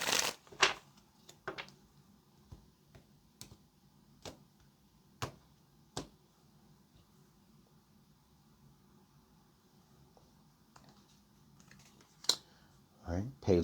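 Tarot cards are shuffled in quiet, irregular bursts of soft riffling snaps and taps, spaced out over a faint background, with a louder flurry near the end.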